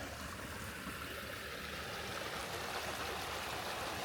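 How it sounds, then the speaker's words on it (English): Creek water runs in a steady, close wash over a small waterfall after snowmelt, a constant broadband rush with no voices over it. "Even got a waterfall."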